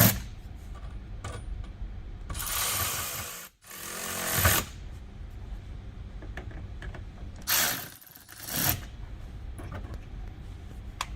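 A power tool drives screws into a mud flap on a 2020-or-later Ford Explorer, giving two sharp, loud whirring bursts of about a second each, separated by quiet handling noises and small clicks.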